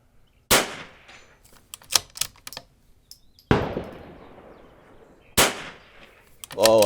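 Rifle shots at an outdoor range ring out as three sharp, loud cracks, each trailing into a long decaying echo, with faint distant clanks of steel targets and small clicks between them.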